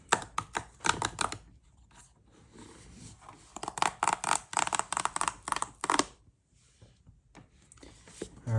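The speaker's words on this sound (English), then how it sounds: "let's go ahead and let's rip this baby open" Meta Ray-Ban Wayfarer glasses packaging being ripped and torn open up close, bursts of crinkly tearing and rustling with short pauses between them.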